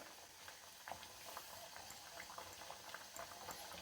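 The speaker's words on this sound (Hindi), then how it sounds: "अपनी मिठाई को यहाँ पर तब तक पकाना है जब तक कि इसकी चाशनी में चिपचिपाहट ना आ जाए।" Petha sweet simmering in sugar syrup with cardamom, a steady soft bubbling with small irregular pops, faint and close, no speech.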